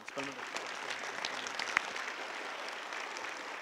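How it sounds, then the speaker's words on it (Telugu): Workshop audience of school teachers and students applauding the headmistress and teachers, a steady, fairly faint wash of clapping filling the whole stretch, with a brief voice near the start. "ఒకసారి హెచ్ఎం మేడం అండ్ టీచర్స్ అందరికీ, ఈరోజు వచ్చిన టీచర్స్ అందరికీ గట్టిగా ఒకసారి క్లాప్ చేద్దాం."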